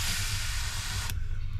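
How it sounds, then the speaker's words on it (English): An airbrush sprays paint onto a paper card model of a Me-410 aircraft, a close, steady hiss of air and paint that cuts off abruptly partway through. "it'll take less pressure to make it spray"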